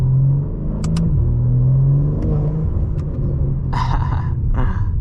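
A BMW M4 Competition engine idles with a deep, steady rumble and a low burbling exhaust note, close and loud, with a few brief higher-pitched whirs and clicks over the top.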